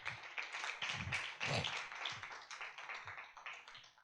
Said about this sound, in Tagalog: Palakpakan po natin ang ating Lord.